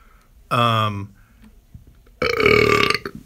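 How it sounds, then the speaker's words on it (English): Two loud, drawn-out human burps, the first short and deep, the second longer and rougher, separated by a quiet pause. "Someone came in here and burped."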